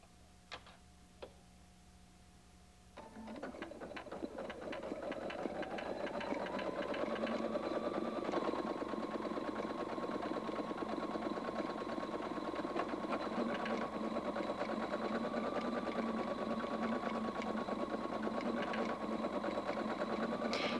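A Husqvarna Viking Designer 1 sewing machine embroiders in the hoop, starting after a quiet moment and then running steadily and loudly with a rapid, even stitching rhythm and a faint tonal hum.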